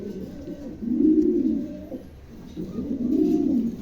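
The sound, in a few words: pigeons cooing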